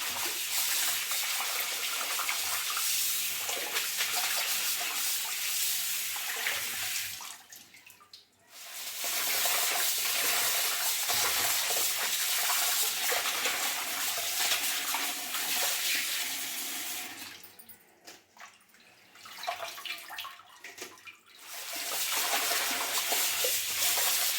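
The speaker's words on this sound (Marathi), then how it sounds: "आता माती खूप आहे, तर आता आपण व्यवस्थित स्वच्छ धुवून घेऊ।" Green garlic leaves being washed in a vessel of water to remove soil, steady splashing and running-water sounds, close and continuous, with two brief quieter pauses.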